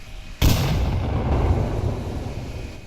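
A grenade goes off in the VR shooter Onward with one sudden, loud blast, followed by a long, rumbling decay that fades over the next two seconds.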